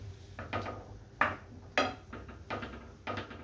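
Tomato soup being stirred in a pot, a spoon scraping and knocking against the metal in irregular strokes, close and fairly quiet.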